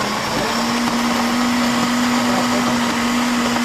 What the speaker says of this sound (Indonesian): Kita blender ini ya.